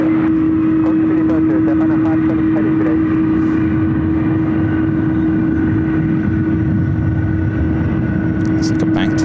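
Japan Airlines airliner at San Francisco airport, a steady loud jet engine roar with a strong sustained whine running throughout, with voices talking underneath.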